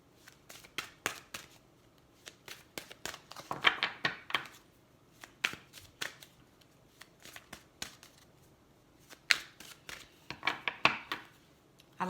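Tarot cards drawn and handled from several decks make crisp irregular snaps, flicks and soft slides, some in quick clusters and others spaced apart, close up in a quiet room.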